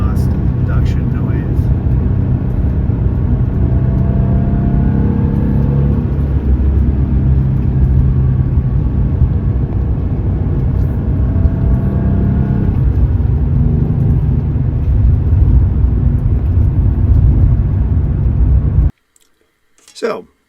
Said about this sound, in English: You can kind of hear some of the exhaust induction noise.